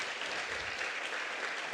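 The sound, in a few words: audience applause in the room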